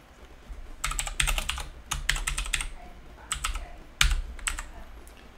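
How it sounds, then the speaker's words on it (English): Typing on a computer keyboard comes in close, quick bursts of clicky keystrokes separated by short pauses, fairly quiet with no voice over it. "Oh, John, get a grip of the keyboard, mate"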